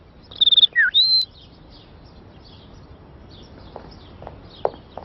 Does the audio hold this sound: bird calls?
yes